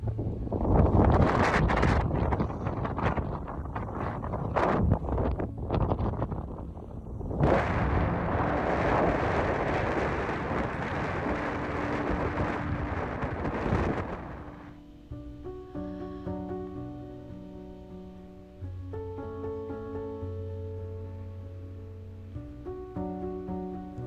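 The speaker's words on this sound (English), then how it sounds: "it was so windy and cold up there" Strong wind roars across Sentinel Pass in Banff National Park, loud and buffeting the microphone in rough gusts for about fourteen seconds before dropping away to a much quieter, calmer tail.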